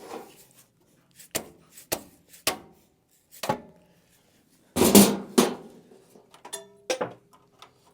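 Several sharp knocks from a hammer tapping on metal on a Case 430 diesel tractor, spaced irregularly with quiet gaps between, fairly close and moderately loud.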